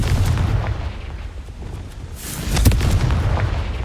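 Confringo blasting curse in Hogwarts Legacy, loud explosive bursts over a rumbling low-end battle bed, with a stronger blast swelling around two and a half seconds.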